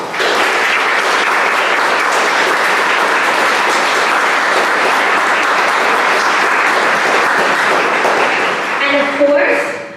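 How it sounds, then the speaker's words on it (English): Loud, dense applause fills a ribbon-cutting ceremony for a university engineering building, a sustained roar of many clapping hands that tapers near the end as a voice begins. "I want you all to join me in giving a huge round of applause as a thank you to our Chancellor, Chancellor Walker."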